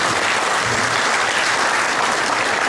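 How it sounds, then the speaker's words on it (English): Loud, dense applause from an audience at a family conference, a steady wash of clapping filling the whole stretch without a break. "So let's give our Lord a big clap"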